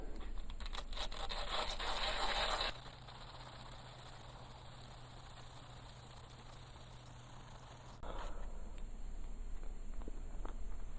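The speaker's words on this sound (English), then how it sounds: "this is the first dry sandpaper 300" A Seiko watch crystal is rubbed with 300 grit dry sandpaper, making a close, raspy scratching at the start, then a quieter hum-filled pause before the gritty rubbing resumes.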